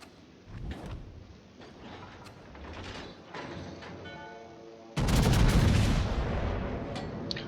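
North Carolina battleship main guns firing high-explosive shells in World of Warships, a sudden loud broadband blast around five seconds in that rumbles and decays, following a stretch of lower, busier battle noise.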